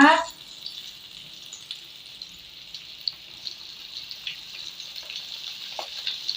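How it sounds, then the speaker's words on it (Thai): Batter-coated shrimp drop into hot oil with a bright initial crackle, then settle into a steady, soft sizzle with scattered pops, heard fairly close. "เรามาทำการทอดกุ้งกันเลยนะลูกนะ"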